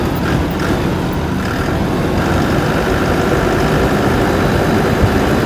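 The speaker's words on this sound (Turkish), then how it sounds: "Beton yolda traktör çok zıplıyor." Steady loud engine drone of a tractor driving on a concrete road, bouncing, with constant rumbling and rattling throughout and no pauses.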